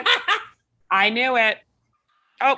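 Several sharp dog barks come up close and loud in short bursts, with a gap before a longer, more drawn-out bark-like yelp and one more bark at the end, while a person speaks briefly between them.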